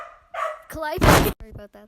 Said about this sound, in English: she will bark her head off and run outside and bark even louder